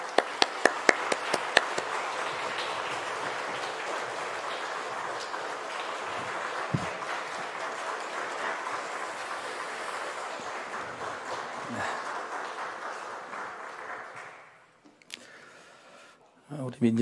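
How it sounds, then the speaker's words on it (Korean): Church congregation at an early-morning family prayer service applauding together, a steady sustained wash of clapping that stops abruptly near the end, followed by a few scattered sounds. "다시 한번 박수하겠습니다"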